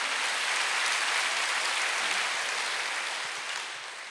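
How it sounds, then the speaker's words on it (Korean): A church congregation applauds during a Sunday worship service, dense sustained clapping from many hands filling the room, then tapering off toward the end, with no talking over it. "여러분과 내 교회 우리 목사님을 좋아하시는 것이면 박수 하나 돌리세요"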